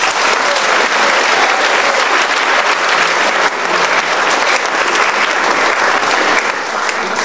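A church congregation claps steadily for the full stretch at worship, the dense applause loud, close and unbroken, with a faint murmur of voices beneath it.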